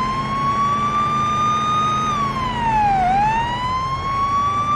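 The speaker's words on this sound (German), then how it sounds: "wenn man eben mit der Sirene unterwegs ist." A police car siren in the Police Simulator: Patrol Officers video game wails loud and close, holding a steady tone, then sweeping down and back up over a constant engine rumble.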